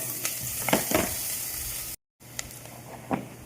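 Onions sautéed in a pan for lentil rice, a close hissing sizzle with a few spatula scrapes and a low hum beneath, cut by a brief gap of silence midway; nobody speaks.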